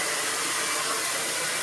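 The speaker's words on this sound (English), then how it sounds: "Just making sure you dry both sides of the hair, especially those longer lengths in the front." Hair dryer blowing steadily and loudly close by as hair is blow-dried during a haircut, a constant broadband rush with no pauses and no voices.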